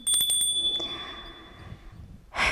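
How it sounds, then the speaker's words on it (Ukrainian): A small hand bell, once carried to bless houses at Epiphany and later kept as a touring talisman, rings in a few quick bright strikes that decay, then a louder jangle bursts in at the end. "І цей дзвоник щасливий"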